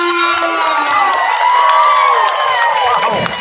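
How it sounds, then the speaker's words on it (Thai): An outdoor Thai school fair crowd welcomes a young luk thung singer at a singing contest, cheering and shouting with high whoops and excited voices, loud and sustained, with only a little clapping mixed in. "ผมขอเสียงปรบมือต้อนรับให้กับน้องต้นข้าว"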